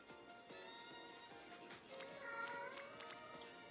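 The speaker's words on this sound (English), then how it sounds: "Very sorry for the cat noises." A house cat meows and wails faintly in the background over steady game music, its drawn-out cries rising and falling for a few seconds.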